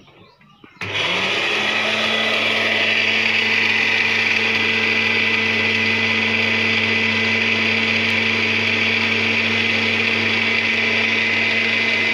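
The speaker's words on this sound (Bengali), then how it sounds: "তখন আমরা নারকেলগুলো ব্লেন্ডার করে দিব।" An electric blender grinds nuts and grated coconut in a home kitchen for biryani, kicking in abruptly after a brief quiet moment and then running as a loud, steady, high-pitched whirring motor drone.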